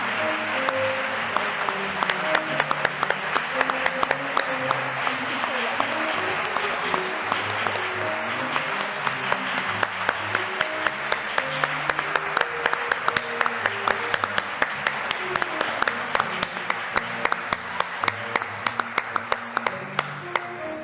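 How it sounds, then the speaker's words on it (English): Audience applause at the University of Manchester Volunteer of the Year Awards 2023, honouring Peaches Womb Cancer Trust: a sustained, dense wash of many hands clapping, steady and fairly close for about twenty seconds, with faint murmuring voices underneath. "Could we please get a big round of applause for Peaches Womb Cancer Trust?"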